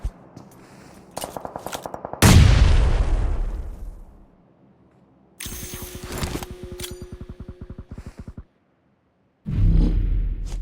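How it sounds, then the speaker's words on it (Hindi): Grenade explosions in the shooter game BGMI on the Livik map: a heavy boom decays into rumble among short bursts of rapid gunfire, with a second blast landing near the end. "तो अभी बैक टू बैक मैं उस पर 3 ग्रेनेड मार चुका हूँ"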